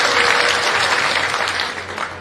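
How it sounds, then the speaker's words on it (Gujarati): Dense, steady applause from a political rally crowd fills the whole stretch, loud and close at first, then easing slightly toward the end, with no voices rising above it. "અમને ભાઈ જોરદાર તાળીઓ બજાવો"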